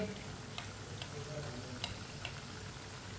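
Lauki (bottle gourd) kebabs fry gently in oil in a pan, a faint, quiet sizzle with a few soft ticks and pops.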